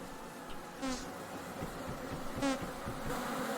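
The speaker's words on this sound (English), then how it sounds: "Bees!" Bees buzz in the video game Vintage Story, a soft, steady insect drone with no voices, swelling slightly twice over a few seconds.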